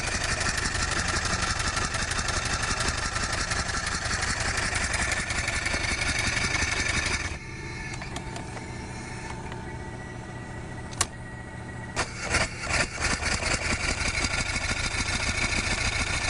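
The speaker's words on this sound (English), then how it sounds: "is a two-cylinder, double-acting steam engine designed for automobile use" An antique two-cylinder double-acting steam engine built for automobile use runs steadily with a dense mechanical chug, dropping briefly in intensity midway before resuming with sharper, rhythmic pulses near the end.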